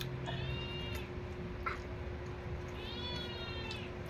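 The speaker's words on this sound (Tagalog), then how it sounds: "Ito pusa gusto kumain mangga." A pet cat meows twice, first near the start and again about two seconds later, each a fairly faint drawn-out call over a quiet household background with a steady low hum and no talking.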